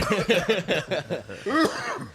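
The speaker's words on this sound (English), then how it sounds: "a very special guest who is coughing already" A person coughs in a rapid rough burst, close and loud, breaking into a few hacking coughs with a laugh-like edge.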